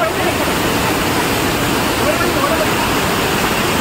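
Keradi waterfall rushes with a dense, broadband roar of falling water, steady and close throughout, with faint voices mixed into the noise.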